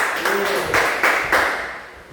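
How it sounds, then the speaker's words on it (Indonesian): Hand clapping in an elementary classroom as students applaud a classmate, a few quick rounds of close, bright claps under light background chatter. "Tepuk tangan dulu."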